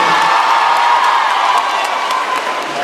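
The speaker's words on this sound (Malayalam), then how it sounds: "ആദ്യം തന്നെ നമ്മുടെ മ്യൂസിക് ബാൻഡിനും ഡാൻസ് ടീമിനും ഒരു വലിയ കയ്യടി കൊടുക്കാല്ലേ" A large audience at a Level Cross film event applauds and cheers for a music band and dance team, dense clapping with whoops sustained loudly throughout, easing slightly toward the end.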